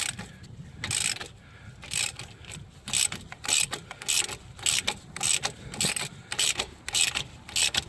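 A ratchet works a stuck control arm bolt on a 2013-2016 Dodge Dart, giving repeated bursts of sharp clicking in irregular strokes, close and fairly loud, with brief pauses between turns.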